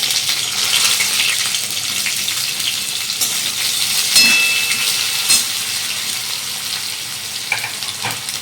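Onion frying in hot oil with cumin seeds, a bay leaf and caramelised sugar for chicken kosha, a steady loud sizzle with stirring clinks throughout, no talking.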